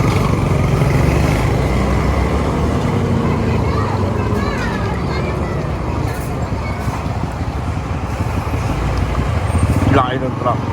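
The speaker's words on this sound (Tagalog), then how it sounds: "Laki ng truck." A large truck passes on a road in Cabanatuan City, its loud, steady rumble blending with wind buffeting the microphone, and a faint voice is present.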